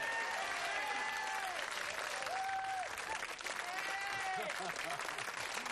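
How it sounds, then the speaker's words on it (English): Studio audience applauding on the 1992 game show Blockbusters, a dense steady wash of clapping lasting throughout, with a host's voice and whoops rising over it. "Give them a round of applause"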